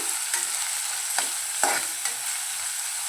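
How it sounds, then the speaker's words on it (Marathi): Finely chopped large onion frying in goat fat in a pan, a steady bright sizzle with a few scraping stir strokes from the utensil, close and continuous. "एक मोठा आकाराचा कांदा बारीक चिरून घेतलाय तो घालूया. आणि छान परतवून घेऊया."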